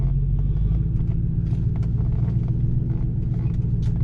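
A 2007 Chevrolet Silverado pickup with a 4.8 V8 and bolt-on mods rolls through a slow U-turn, its engine a steady low rumble close by with faint light clatter on top.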